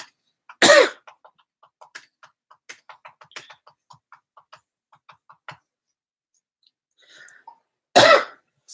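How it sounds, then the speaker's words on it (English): Two sharp, loud coughs, one near the start and one near the end, separated by quiet scattered clicks and rustles. "Excuse me, chronic cough."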